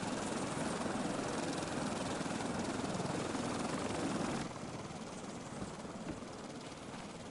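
A gyrocopter's rotor and engine drone with a loud, continuous broadband whir that drops noticeably in level partway through, steady and close with no talking.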